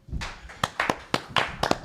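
A few people clap in a studio, scattered, uneven claps in small bursts, close and fairly loud, with no steady applause.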